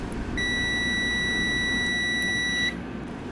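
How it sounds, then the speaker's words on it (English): A single steady electronic beep from a multimeter continuity test, high-pitched and clear, holds for about two seconds and then stops abruptly. "With your multimeter, you're going to turn it to continuity."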